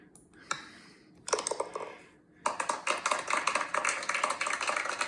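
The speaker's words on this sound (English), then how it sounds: "here I'm already typing in my numbers" Numbers are typed on a computer keyboard during a round of WGT online golf: a quick tap, then bursts of rapid close keystrokes that grow longer and denser, with no voices.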